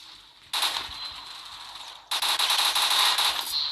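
A Browning M1919A6 machine gun in World War Heroes fires two rapid, sharp bursts, a short volley followed by a pause and then a longer, louder stream of rattling shots.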